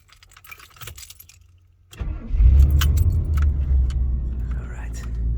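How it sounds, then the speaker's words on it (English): A car engine being started close up: keys jangle and click in a quiet cabin, then the engine cranks and catches about two seconds in and settles into a loud, steady idle rumble. "So let me start the car over there."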